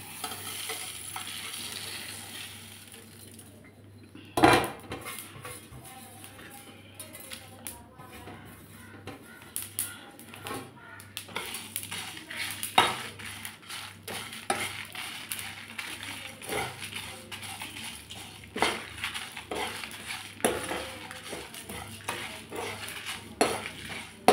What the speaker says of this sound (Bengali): আমার মশলাগুলো ভাজা হয়ে গেল